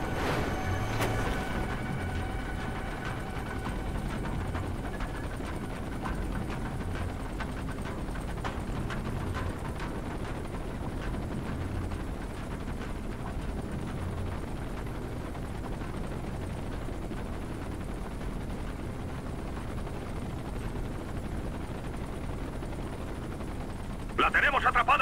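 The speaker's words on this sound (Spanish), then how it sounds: "Cerradle el paso con un helicóptero, a ver si eso lo atraviesa." Helicopter rotor thrum in the tactical shooter Ghost Recon Future Soldier, a continuous loud drone running throughout, layered with bursts of gunfire and in-game combat noise.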